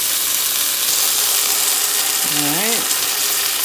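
Minced garlic sizzling loudly in a pan while being stirred, a dense steady hiss with scraping throughout, close, and a brief spoken word near the end.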